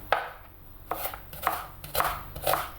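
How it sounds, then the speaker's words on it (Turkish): A knife chops onions into half-moon slices on a cutting board in steady, crisp strikes, close and clear with no talking. "soğanlarımı da gördüğünüz gibi yarım ay şeklinde piyazlık doğruyorum"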